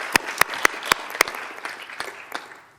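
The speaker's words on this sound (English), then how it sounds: "Let's have a round of applause for our staff." A few scattered, sparse claps ring out at a school board meeting, a handful of distinct sharp hand claps close by that quickly thin out and fade.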